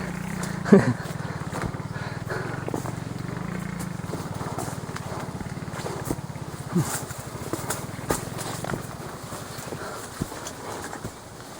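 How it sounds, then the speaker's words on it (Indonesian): A motorcycle engine heard during a hike up a mountain through a sugarcane area in Indonesia, a low droning hum that holds steady for several seconds and then fades, with scattered footsteps and rustling nearby. "ada suara motor ke atas gunung"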